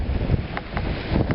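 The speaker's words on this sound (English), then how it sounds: "The wind has picked up." Blizzard wind buffets the microphone during a snowstorm, producing a loud, gusty low roar with a few faint higher whooshes.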